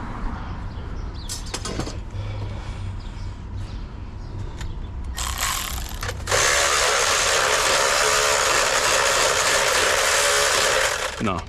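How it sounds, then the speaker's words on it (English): Electric ratchet loosening bolts on the exhaust aftertreatment of a Freightliner Cascadia truck with a Cummins ISX15, a loud continuous whirring buzz after a few shorter bursts, close, with people talking in the background. "Pásame el ratchet para bajar este."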